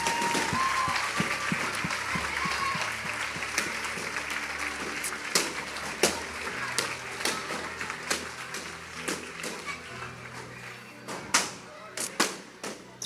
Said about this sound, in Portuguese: Você pode dar um aplauso bem forte ao Senhor?